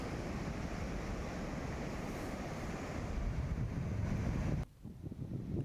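Water roars from the four opened gates of the Parvati dam in Dholpur, Rajasthan, a loud, steady rushing torrent that cuts off abruptly near the end.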